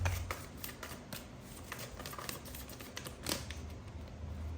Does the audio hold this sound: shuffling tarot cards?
yes